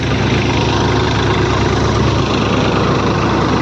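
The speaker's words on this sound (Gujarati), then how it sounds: "અને આ ટ્રેક્ટર છે 3602 ન્યૂ હોલેન્ડ." A New Holland 3602 tractor engine runs loudly nearby with a steady, low rumbling idle and constant vibration, no voices.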